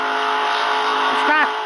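A race car engine whines in a NASCAR racing video game, a steady buzzing drone that briefly rises in pitch near the end of the short stretch.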